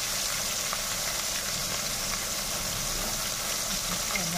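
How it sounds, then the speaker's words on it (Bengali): Capsicum fries in a pan over a high flame for chilli chicken, a steady loud sizzle and hiss with a constant low roar from the burner and no pause throughout. "ক্যাপসিকামটা একটু ভাজতে টাইম লাগে"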